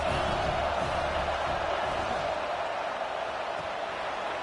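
Stadium crowd in a Penn State college football video game, a steady, dense roar of massed voices holding at an even level throughout with no clear cheers or peaks.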